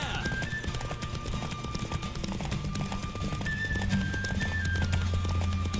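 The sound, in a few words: horse galloping in a race, from video game The Witcher 3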